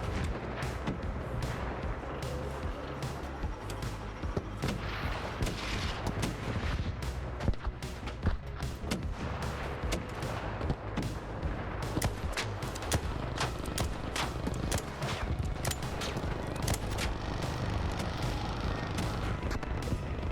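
Gunfire at an enemy in ARC Raiders, a dense run of sharp repeated shots and booming impacts over a continuous rumble of combat, fairly distant and moderately quiet.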